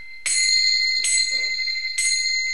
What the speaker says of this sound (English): This is a good kartal for ringing.